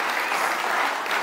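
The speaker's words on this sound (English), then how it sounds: "Dr. Sheeny, let's give her a round of applause." An audience gives a round of applause at a talk event, dense steady clapping at moderate level throughout, with no voices over it.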